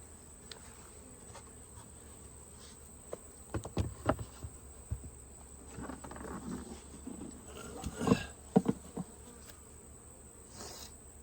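Honey bees buzz softly and intermittently around hive feeders, with brief louder passes close by over a quiet background.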